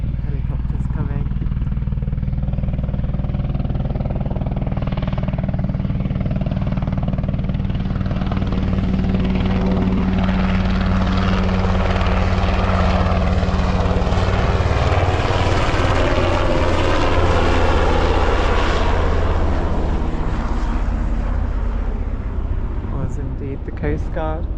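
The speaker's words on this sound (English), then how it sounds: "Helicopters coming." A helicopter flies overhead near the coast, a loud, steady rotor and engine roar that swells and peaks mid-pass, with talk over it throughout.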